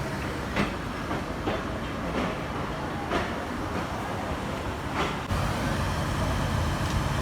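A passenger train in Bangladesh pulls out of a station toward Jessore, a steady loud rumble and clatter heard from on board, with faint voices under the noise.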